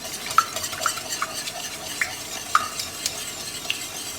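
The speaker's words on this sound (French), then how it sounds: "On mélange bien." A spoon stirs tomato paste into a thickening béchamel for a hard-boiled egg gratin, giving soft, scraping swirls with a few light clinks against the pan, quiet and close with no voices.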